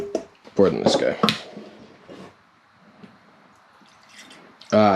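Spiced apple cider, thick with pulp and silt, is poured into a container, giving a few short liquid splashes and drips between loud bursts of nearby talk.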